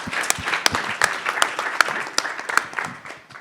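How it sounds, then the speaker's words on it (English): A panel audience at a women-in-diplomacy event gives a short, moderate round of applause, with individual sharp claps standing out over a softer crowd patter that fades toward the end. "let's give a round of applause to that answer"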